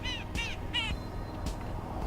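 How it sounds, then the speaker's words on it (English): Baby chicken call in the video game Always Sometimes Monsters: a few short, harsh, squawky cries in quick succession, closer to a caw than a peep, over low background hum. "Baby chicken!"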